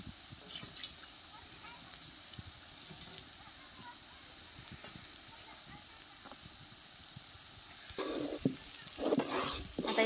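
Stuffed brinjal (eggplant) masala fries in a pan with crushed peanuts, a faint steady sizzle with light stirring, then a louder splashing hiss near the end as spiced water is poured in; a voice talks quietly over it.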